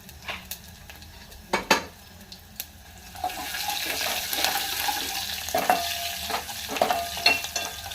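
Red chillies, mustard seeds and garlic crackle and sizzle in hot oil for a dal tempering, a steady frying hiss that swells partway through, with scattered sharp pops and a few clinks of a spoon against the pan.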